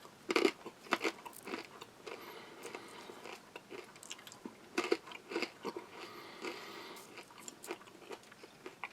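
Close, irregular crunching of a dry nut, pretzel, corn nugget and peanut snack mix from a US Army MRE, sharp bites scattered among softer chewing sounds, with no talking.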